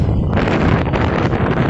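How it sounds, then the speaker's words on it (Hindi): Gusty wind rushes and roars against the microphone, a loud, rough blowing that surges unevenly throughout. "आज हवा अच्छी चल रही"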